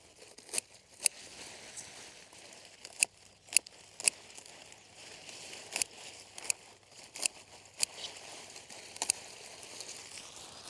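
Mustard leaves are cut and torn at harvest, with sharp crisp snaps and crinkling rustles scattered irregularly up close, no talking.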